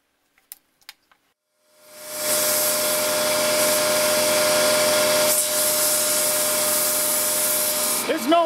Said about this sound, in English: I'll blow it out just in case.